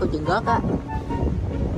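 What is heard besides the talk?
strong wind blowing into the microphone outdoors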